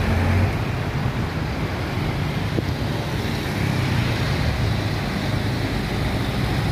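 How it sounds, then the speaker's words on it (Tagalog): Steady road traffic building up near Quezon Bridge in Quiapo, Manila, during an event, a continuous dense wash of car and bus noise with some wind across the microphone. "Mukhang may event po dito na naman sa Quiapo, kaya nagbi-build up po ulit ng traffic"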